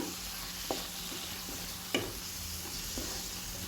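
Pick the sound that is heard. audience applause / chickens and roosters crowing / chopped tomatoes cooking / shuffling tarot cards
chopped tomatoes cooking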